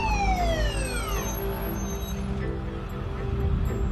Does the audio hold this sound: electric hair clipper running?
no